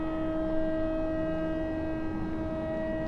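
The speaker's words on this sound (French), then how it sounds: "Comme tous les matins, la ville se réveille au son d'une sirène." A city warning siren sounds over Pyongyang at 7:04 in the morning, a steady, sustained wail holding level tones for the whole stretch with no voices.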